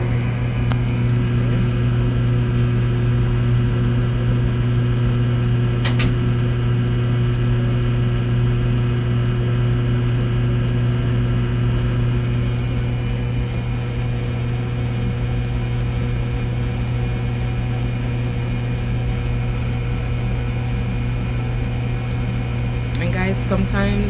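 A running microwave oven gives off a steady, loud, unbroken hum with a low mechanical drone and no variation, and a couple of faint clicks come at the very end.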